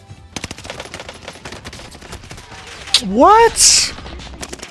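Bursts of gunfire in the Warzone video game, quick repeated shots rattling through the background, with a player talking and a louder whooshing game sound near the end.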